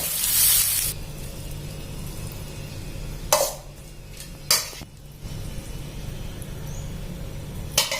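Rice noodles with kale, fresh shrimp and egg stir-fry in a pan for pad see ew, a soft steady sizzle broken by a few sharp scrapes of the spatula, with a brief burst of hiss at the start.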